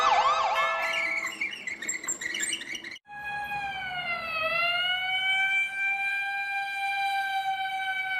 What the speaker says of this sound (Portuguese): Uma ambulância!